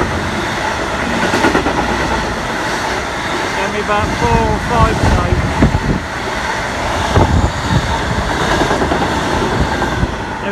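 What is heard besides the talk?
class 66 freight train passing station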